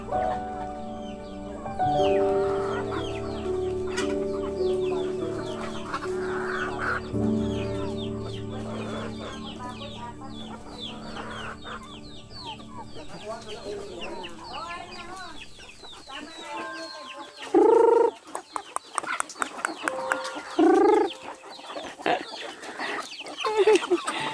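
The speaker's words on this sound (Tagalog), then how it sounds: "Dami ditong manok." Native chickens on a rural farm cluck and squawk nearby, a busy flock with a rooster crowing and sharp calls toward the end.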